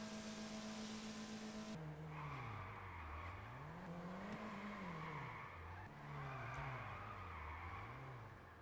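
Car tires on low grip tires skidding while drifting in GTA Online, a loud, continuous squeal rising and falling in long sweeps under a steady engine roar, with no talk.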